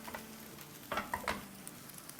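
Maggi noodles with vegetables and spices are stirred with a spatula in a pan over a faint, steady sizzle, with a few quick scraping strokes clustered near the middle.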